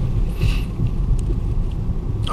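A manual car engine drones steadily as it accelerates on the road while a learner driver changes up to fourth gear. A low, continuous rumble holds under the cabin noise.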